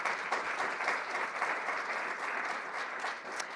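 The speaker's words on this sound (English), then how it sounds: "he deserves a round of applause" Audience at a climate week livestream event gives steady, moderately loud applause, a continuous wash of many hands clapping with no voices over it.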